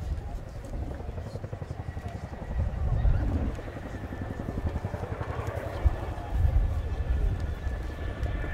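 A Royal Air Force Chinook HC.6A twin-rotor helicopter performs a flying display at an airshow, its rotors thudding in a steady, continuous beat with a rumbling engine drone that swells and fades slightly as it manoeuvres.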